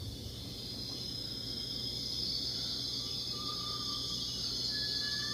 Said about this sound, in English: What we're dealing with here is currently cicadas.